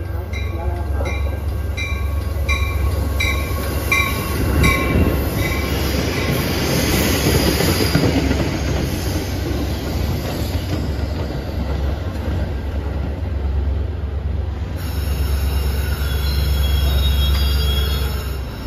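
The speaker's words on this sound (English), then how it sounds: "Your walking towards train number 2614 to Chicago Union Station is now arriving." Metra commuter train 2614 to Chicago Union Station arrives at Lake Forest, Illinois, in December: loud, close rumbling and clattering wheels with high squeals and a horn-like tone, under public address announcements.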